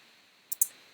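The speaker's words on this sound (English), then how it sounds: "And I can edit my title by just double clicking on it." Computer mouse double click, two quick sharp clicks in close succession over a faint steady hum, recorded near the microphone with no talking, while editing in video software.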